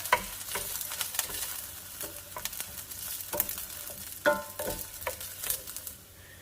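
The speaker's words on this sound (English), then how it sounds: "I just want the rice to become toasty and fragrant" Rice toasts in a pan and sizzles softly as it is stirred, with scattered scrapes of the utensil against the pan.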